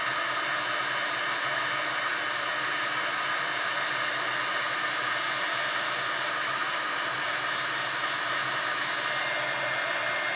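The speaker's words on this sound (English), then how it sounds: "we're going to go ahead and we're going to heat emboss this until it gets to a shiny white" A heat embossing tool blows hot air over embossing powder on a handmade card, a loud, steady, unbroken whoosh close to the microphone that holds unchanged for the whole stretch.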